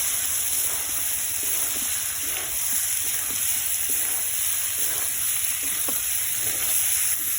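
Pre-fried potatoes go into a tomato masala that has been cooked down until the oil separates. The pan keeps up a continuous, fairly loud sizzle with soft stirring scrapes and small pops running through it.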